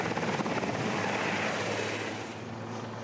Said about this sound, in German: Zunächst fliegen die Sea King-Hubschrauber zeitlich versetzt an und nehmen die Soldaten der Division spezielle Operationen auf.